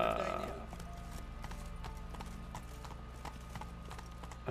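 Roach the horse trots in The Witcher 3 video game, hooves clip-clopping in a steady even rhythm throughout, close and clear over a low background hum, with a brief burst of game sound at the start.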